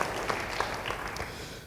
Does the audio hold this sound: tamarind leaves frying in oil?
no